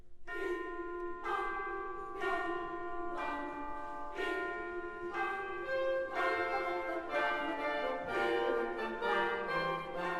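Bells from the fifth movement of Mahler's Symphony No. 3 ring in a steady series of clear, resonant strikes about once a second, each tone sustaining into the next and the texture thickening toward the end, with no voices.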